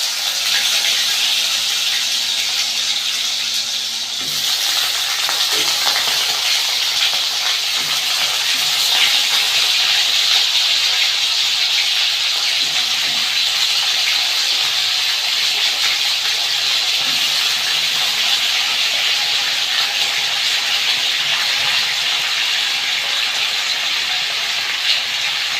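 Diced potatoes frying in hot oil already crackling with mustard seeds and cumin, giving a steady, loud broadband sizzle and hiss that swells slightly after a few seconds and holds evenly with no voices.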